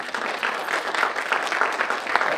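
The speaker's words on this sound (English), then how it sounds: "give Jesus a hand clap, or the God that you serve a hand clap" A congregation at a meeting applauds for a couple of seconds, giving a dense, steady patter of many hands clapping at a moderate distance indoors.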